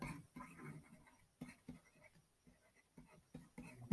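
Pen strokes scratch across paper while an equation is written out, short irregular bursts of writing close by, separated by brief pauses, with faint speech mixed in.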